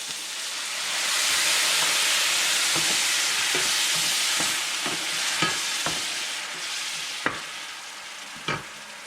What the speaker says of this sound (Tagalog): Lagyan natin ng chicken broth